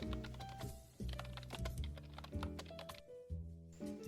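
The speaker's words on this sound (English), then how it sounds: "I'll never forget typing that first hello world." Someone types on a computer keyboard, a close, fairly quiet run of uneven key clicks and thunks in bursts with short pauses, alone with no talking.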